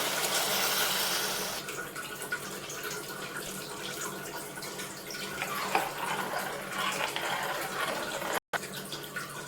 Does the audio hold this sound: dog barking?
no